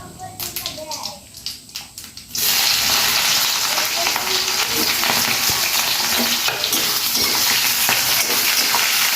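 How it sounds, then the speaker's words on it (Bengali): Chopped onion and green chilli hit hot oil in a pan, a brief quiet stirring giving way to a sudden loud, steady sizzle as the frying takes hold and continues close by. "এবারে দিয়ে দেবো কেটে রাখা পেঁয়াজ আর কাঁচা লঙ্কা"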